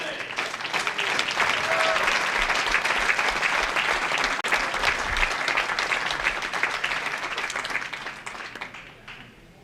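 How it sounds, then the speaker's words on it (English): A large crowd at an international bowling championship applauds its finalists with dense, sustained clapping that fills the hall, fading slowly near the end. "let's give a big round of applause to our finalists today"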